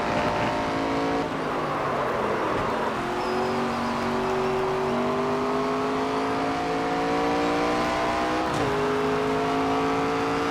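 A NASCAR 25 video game race car engine drones steadily at high revs, with its pitch climbing smoothly across the run and dipping briefly twice as the car shifts or brakes, loud and continuous.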